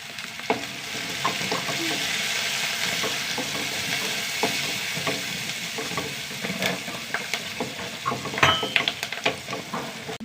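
Onions sizzle and crackle in hot oil with curry leaves and garlic in a pan, a dense steady frying hiss with occasional stirring clinks, close and continuous with no talking.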